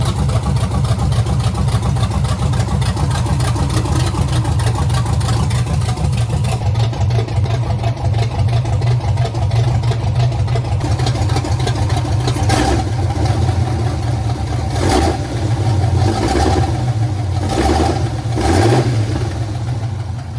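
Engine of an old truck recovered from a salvage yard after years abandoned, running loud and close, a steady low idle that turns into rhythmic revving bursts toward the end.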